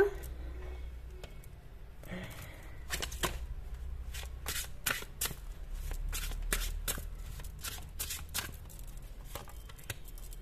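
Cards are shuffled for a card reading, a long stretch of soft riffles and snapping flicks over a low background hum, close and fairly quiet, with no talk.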